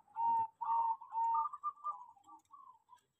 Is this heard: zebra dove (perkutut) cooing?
yes